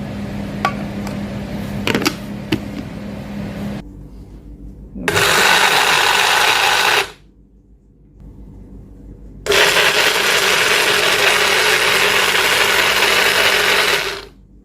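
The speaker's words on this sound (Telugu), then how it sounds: "అంతే, మిక్సీ పట్టడం అండి." An electric mixer grinder blends fish salad ingredients with vinegar. Two loud, whirring bursts of about two and five seconds are split by a short pause, after some clattering handling.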